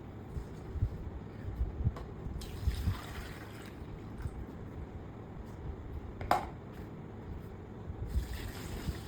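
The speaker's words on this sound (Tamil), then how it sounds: "இப்போ இதில் வந்து 10 மடங்கு அளவுக்கு தண்ணி சேர்க்க போகிறோம்." Water trickles and splashes quietly as it is poured onto kitchen waste in a container, a faint, continuous pour with a few small clicks and knocks.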